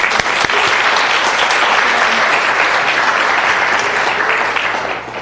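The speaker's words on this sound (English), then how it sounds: "Let's give her a round of applause." Sustained, loud applause from the audience at a city council meeting, a dense wash of clapping that holds steady for several seconds before tapering slightly at the end.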